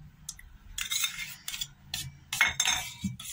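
Curd and melted ghee being mixed in a bowl with a spoon for a semolina cake, giving clinking, scraping strokes in uneven bursts, close and moderately loud with no voices.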